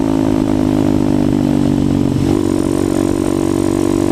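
A motorcycle engine drones steadily while riding in 5th gear, a loud close-up continuous hum with a slight shift in pitch partway through and rushing wind noise.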